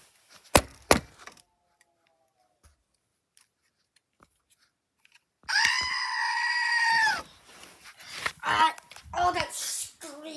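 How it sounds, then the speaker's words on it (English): Loud, piercing scream bursts out suddenly and holds for about a second and a half after near silence, followed by several shorter shrill cries and vocal outbursts close to the listener. "Oh, that scream. It just hurts my ears."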